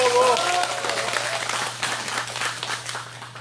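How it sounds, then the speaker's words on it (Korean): Crowd applause at an outdoor Wednesday protest rally in Soseong-ri, steady clapping from many hands sustained throughout, with a brief voice heard near the start and a low constant hum underneath. "모아서 박수 한 번 더"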